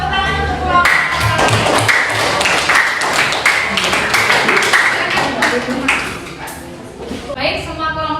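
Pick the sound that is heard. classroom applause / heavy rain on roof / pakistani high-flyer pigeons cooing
classroom applause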